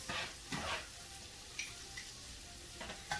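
Peppers sizzle and fry in a hot pan for a shrimp, chicken and sausage pasta, a steady close crackle broken by a few soft stirring scrapes, with no voices.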